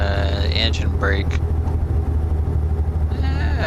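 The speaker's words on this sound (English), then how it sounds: "Engine brake." A heavy truck engine brake in American Truck Simulator, heard as a deep, steady, close engine rumble with someone talking over it throughout.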